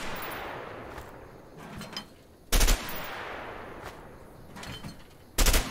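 Gunshots in the video game A Way Out, two loud, isolated blasts a few seconds apart that stand out sharply over a low background of ambience and faint activity.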